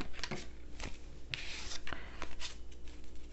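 Tarot card deck being shuffled by hand, a series of crisp papery riffles and slaps in irregular bursts, close and fairly quiet, with no talking.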